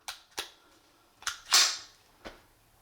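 Mechanical clacks from a SIG Sauer P220 or Dan Wesson 1911 pistol, the slide slingshotted forward after reloading, heard as several sharp, close metallic snaps spread across a few seconds with no talk.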